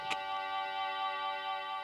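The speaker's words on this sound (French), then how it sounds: "Curieux, j'entends un tic-tac." A clock ticks softly and steadily over a sustained humming tone, with a sharp click near the start.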